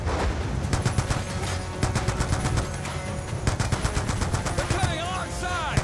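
Mounted machine guns rake from each side of a barge in the Black Ops 2 campaign, rapid bursts of automatic fire rattling close and loud, with other gunfire and battle noise throughout.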